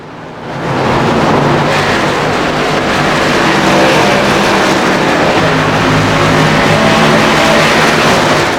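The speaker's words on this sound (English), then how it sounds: "we're gonna crank these engines up and let them do the talking here for just a few moments" Race car engines at Pocono in a racing game swell from quiet into a loud, sustained roar and hold a dense, steady drone throughout, with no talk over it.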